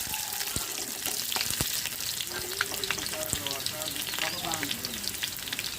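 Steady, crackling sizzle of crushed garlic frying in hot oil in a wok, with occasional clinks of a utensil stirring in the pan.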